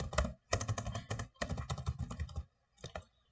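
A computer keyboard is typed on in short, close bursts of clicking keystrokes separated by brief pauses, with no talk.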